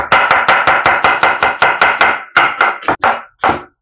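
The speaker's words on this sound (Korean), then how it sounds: "이런 소리가 들리는 맛에 나무 도마를 쓰는 것 같아요" A knife chops an onion on a wooden cutting board, about a dozen crisp, evenly spaced close-up thunks that slow and become irregular toward the end, with no talk.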